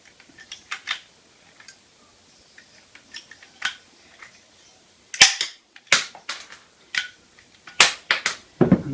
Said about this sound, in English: You need rivets. And those rivets go in the gun, or riveter.